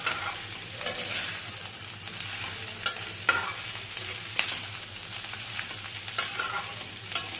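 Mixed vegetables with stems, potato and pumpkin stir-fried in a spicy tempering: continuous close sizzle punctuated by irregular spatula knocks and scrapes against the pan.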